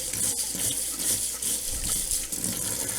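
Cold tap water runs steadily into a sink while a Royal Berkey water filter element is washed, a continuous close splashing gush with small shifts as the flow hits the filter.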